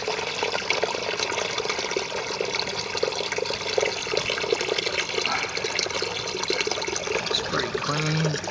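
Water drains steadily from an RV fresh water tank, a continuous close gushing and splashing that holds the same level throughout, with no talking over it.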